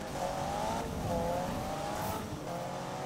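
A race car revs hard through its gears in the Need for Speed racing game, its loud engine droning steadily with rising and falling pitch and faint tire noise, heard alone without talk.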